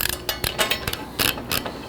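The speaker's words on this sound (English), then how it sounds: "Now you can tighten all those down with a 3/4 inch socket and a 3/4 inch end wrench." A 3/4 inch socket ratchet tightens bolts on a Jeep JL Wrangler tire carrier, giving quick bursts of ratcheting clicks in an irregular rhythm, close and fairly loud, with no talking.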